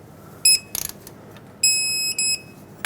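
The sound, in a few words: torque wrench tightening tie rod nut to 44 foot-pounds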